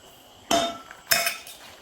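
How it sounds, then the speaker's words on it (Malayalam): Roasted coconut and nuts tipped into a pan in two brief clattering bursts, each a sharp rattle of pieces hitting metal that trails off, close by with no talking. "മൂപ്പിച്ച് വെച്ചിരുന്ന തേങ്ങയും നട്ട്സും എല്ലാം കൂടി ഇതിലേക്ക് ചേർത്ത് കൊടുക്കാം"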